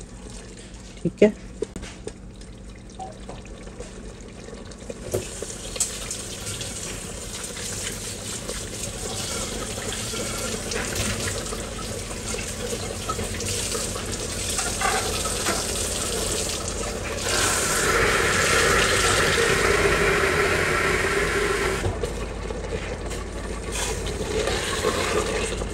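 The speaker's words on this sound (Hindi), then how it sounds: "अब हम इसमें पानी डाल देंगे" Water is poured into a pot of taro roots and meat, a steady trickling splash that swells midway before easing off, with a few utensil knocks early and someone speaking briefly.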